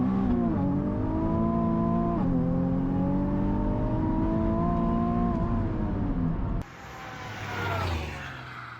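A Nissan 370Z twin turbo street and track car driving under steady load, its engine droning with a smooth, rising and falling tone for several seconds before a shift or lift drops it to a quieter whir that swells again.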